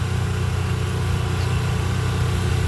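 An Oliver 60 tractor engine runs at a tractor and engine show, a steady close idle with a low, even mechanical throb that holds unchanged throughout.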